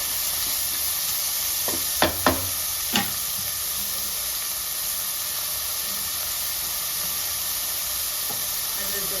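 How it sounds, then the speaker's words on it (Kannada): Chopped ivy gourd roasts in hot tempering oil, a constant bright sizzle and hiss close by, broken by a few sharp clanks of a utensil against the pan near the start. "ಈ ಥರ ಕಟ್ ಮಾಡಿಕೊಂಡು ಒಗ್ಗರಣೆಗೆ ಹಾಕಿ. ಈಗ ಅದೊಂದಿಗೆ ಸ್ವಲ್ಪ ರೋಸ್ಟ್ ಆಗ್ತಾ ಆಗಲಿ"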